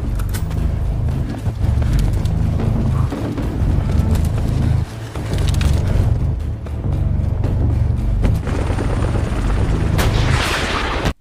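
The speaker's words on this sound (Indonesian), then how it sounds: "sebuah helikopter musuh menuju ke rumah tempat mereka beristirahat" Helicopter rotors thump steadily with a heavy, pulsing beat that stays loud throughout, briefly dipping before returning, with no voices.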